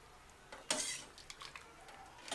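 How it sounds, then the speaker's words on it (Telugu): Tomato rasam being stirred in a cooking pot, a spoon scraping and clinking against the metal in a few short strokes, close and fairly quiet with no talking. "బాగా కలియబెట్టి"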